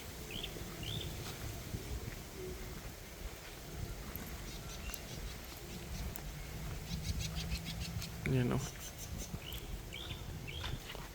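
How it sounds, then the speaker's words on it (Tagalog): Bird calls at a farm with mahogany trees, brief high chirps repeating at the start and end over steady outdoor background noise, with someone speaking briefly nearby. "may ibon naman guys"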